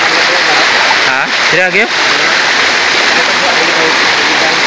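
Loud, constant roar of rushing water from a waterfall at a spot in Sitio Marabo, Brgy Mambaroto, dense and close with no letup, as a person briefly speaks over it.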